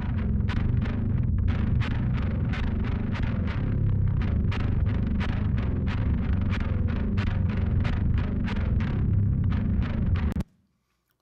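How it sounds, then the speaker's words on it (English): A direct-signal electric bass guitar played with a pick and heavy distortion pounds out a steady run of sharp, evenly spaced plucked notes for about ten seconds, then stops abruptly. "So you can hear there's a good amount of distortion and a lot of accentuation on the pick attack."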